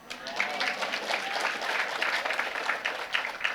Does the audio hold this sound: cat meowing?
no